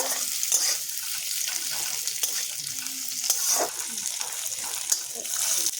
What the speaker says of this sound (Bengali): পেঁয়াজগুলোকে অল্প লাল লাল করে ভেজে নিব।